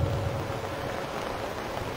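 Steady rain falls in Srinagar during a flag-hoisting at the district office, a continuous even wash of noise with no voices.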